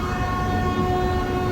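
Nagarsol Superfast Express, train 12787, at Vijayawada Junction, rumbling steadily at close range with a long sustained horn-like tone held throughout, no voices.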